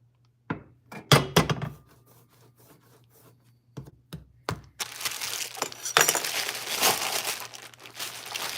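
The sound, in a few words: rustling of bags of pottery clay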